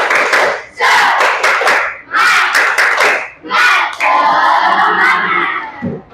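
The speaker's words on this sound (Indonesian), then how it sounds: "Tepuk semangat." A school class performs a spirit clapping chant, loud rhythmic bursts of unison claps and shouted chanting repeating in short phrases, energetic and close.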